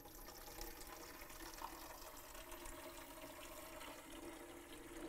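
Water is poured from a BWT filter pitcher into the reservoir tank of a Bezzera BZ13 espresso machine, a quiet, steady trickling and gurgle lasting several seconds with no talking.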